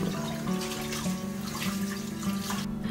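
Tap water runs steadily into a kitchen sink while dishes are washed in a UK home, a continuous splashing stream that cuts off abruptly near the end.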